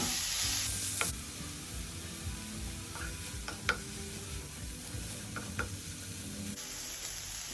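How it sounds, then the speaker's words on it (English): Chopped onions and green chilies fry in a pan with a steady sizzle. A few light stirring clicks and scrapes break in at intervals, and no one speaks. "We just need to fry the onions until it becomes translucent."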